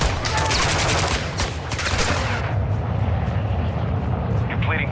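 Gunfire in Call of Duty Modern Warfare: a dense, loud barrage of rapid shots mixed with a roaring engine drone, easing into a steadier rumble, with a voice speaking over it.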